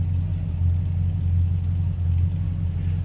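A 1966 Plymouth Belvedere police car idles with a steady, low, throaty engine rumble, close and continuous, with no voices over it.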